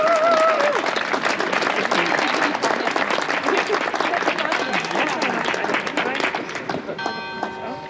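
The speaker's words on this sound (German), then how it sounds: "Applaus für Ronja!" Audience at a book presentation applauding for Ronja: loud, dense, sustained clapping throughout, thinning slightly toward the end.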